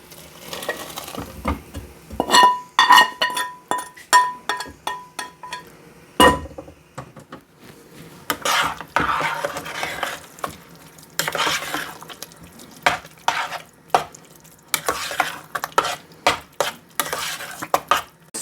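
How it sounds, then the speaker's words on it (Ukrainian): A pot of porridge is cooked and stirred, with a boiling butter mixture added. Close spoon scrapes and clinks against the pot come in bursts over soft bubbling and sizzling, with quieter pauses between. "Воно має гарно прокипіти, і тоді ми це виливаємо в кашу і вже будемо дотушувати її до готовності."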